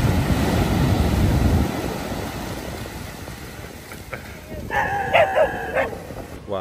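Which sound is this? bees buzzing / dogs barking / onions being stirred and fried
dogs barking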